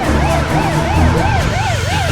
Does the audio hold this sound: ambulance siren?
yes